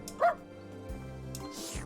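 A dog in the video game Crystalline gives a short, bright bark, then a few softer yips and whimpers as it playfully chases a small creature called the Pango, with a faint voice or game music underneath.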